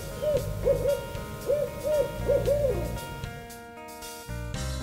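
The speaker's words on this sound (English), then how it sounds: "an owl sounded off, almost like it was waking up the deer for Griffin" An owl hoots at dawn over a food plot during an October youth-season deer hunt, calling in a few short rising-falling phrases over a low background hum, moderately close and clear.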